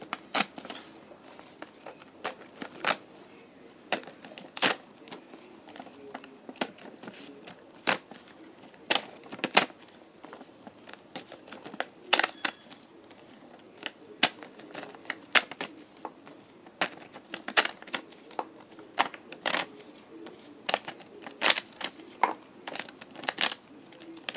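Paper slips bearing names are folded one after another, giving crisp, close crinkling snaps and creases in an irregular rhythm over a quiet room, with short pauses between bursts.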